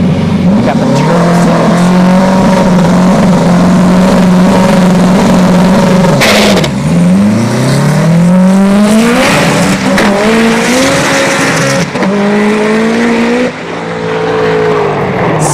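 A turbocharged Honda Civic launches down a dragstrip, its engine droning loud and close, then rising through gear changes with shifting pitch as the car pulls hard, heard over outdoor track ambience.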